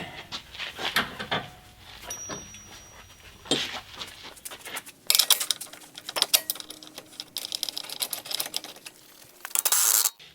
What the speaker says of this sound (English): I've got my wrench set down pretty low so we're not over torquing any of this.